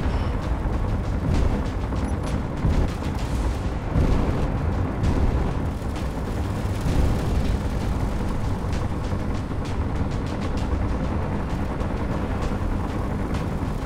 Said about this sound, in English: Oh, incoming missiles. There we go, that made some of them miss the shield at least.